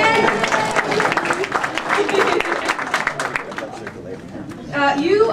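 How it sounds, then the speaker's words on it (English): An audience at a district club gathering claps and applauds club officers, with loud, dense clapping amid crowd chatter and cheering voices, easing briefly before swelling again near the end. "And clap and applause."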